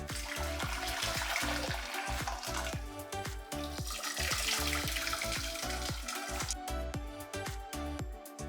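Steady bubbling and crackling of shrimp dropped into boiling water, a dense continuous hiss with rapid irregular pops throughout.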